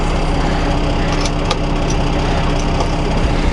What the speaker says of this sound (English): I left the truck running because the engine is hot, above 200 degrees Fahrenheit, so left the engine running.